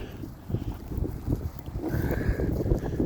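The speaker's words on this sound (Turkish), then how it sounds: "Rüzgarın da sesini duyuyorsunuz zaten." Wind gusting and buffeting against the microphone, a rough, rumbling rush with low-frequency thumps, close and fairly steady throughout.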